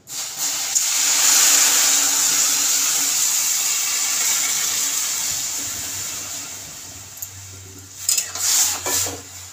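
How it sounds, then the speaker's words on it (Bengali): Water poured into a hot pan of fried lentils for boiling: a loud, close hiss and sizzle that swells, then slowly fades, followed near the end by a few metallic clinks of a utensil against the pan. "এবার আমি জল ঢেলে দেবো, সেদ্ধ করার জন্য পরিমাণ মতো জল দিয়ে দেবো।"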